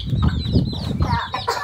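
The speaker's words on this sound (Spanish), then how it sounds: "Mira los pollitos." Chickens and small chicks cluck and cheep close by in a farmyard, a busy overlapping chatter of short calls with no talking.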